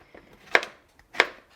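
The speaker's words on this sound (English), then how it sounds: "We have our zucchini and squash chopped." A knife chops through zucchini and squash on a cutting board, two sharp, close chops about half a second apart with quiet pauses around them.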